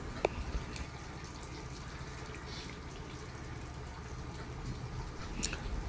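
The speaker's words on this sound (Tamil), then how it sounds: "கொஞ்சம் தண்ணி ஊற்றிக்கலாங்க" Water pours steadily into a pot of fish vadai curry, a soft, continuous liquid rush heard faintly and alone for several seconds.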